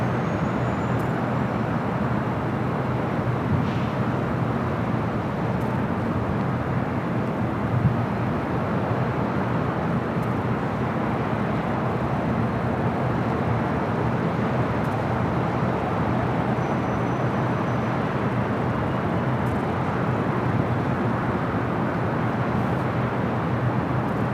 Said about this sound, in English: And that will be the next takeoff on the south side, 25 left. It's an A340 500.